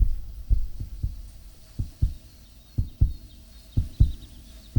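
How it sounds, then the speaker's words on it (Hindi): A racing heart thumps in steady, paired beats, each a deep, close, muffled pulse repeating evenly with no voices over it. "वो है उसके दिल की धड़कनें।"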